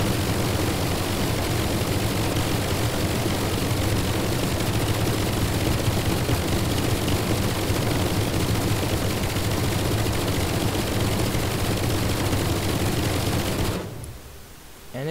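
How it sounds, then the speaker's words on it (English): Sustained, dense rapid-fire gunfire from a fast-shooting weapon in the Brick Rigs building game, a loud continuous roar of shots that runs unbroken for about fourteen seconds before cutting off abruptly. "It shoots around 700 bullets per second."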